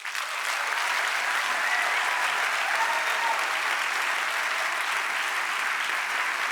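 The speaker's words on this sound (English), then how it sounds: "round of applause." Steady, dense applause from the audience at the Reeperbahn Festival 2022 opening show, rising quickly and holding at a loud, even level throughout.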